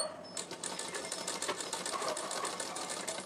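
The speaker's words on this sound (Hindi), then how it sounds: "मैंने यहाँ इसके बारीक सिलाई लगानी शुरू कर दी है, जस्ट इसके फ्यूज़ पर, जस्ट बगल से" A sewing machine runs continuously, fine-stitching the neckline of a suit in a rapid, even mechanical rattle, close up and alone.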